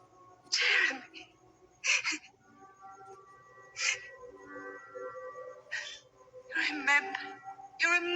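Several sharp sneezes and gasping breaths burst out at intervals, close and fairly loud, between quiet stretches with faint voices.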